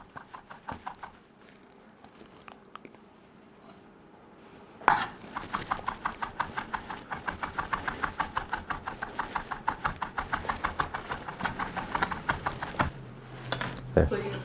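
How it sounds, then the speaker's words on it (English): A knife rapidly chops raw garlic into a fine mince on a cutting board, with quick, steady close taps that start sparse and then run fast and even. "I want this minced pretty finely, not trying to bite into super large chunks of garlic in my flatbread"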